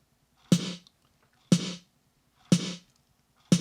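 Four evenly spaced 80s-style electronic snare hits, one per second, each a sharp crack with a short bright noisy tail, alone and clean.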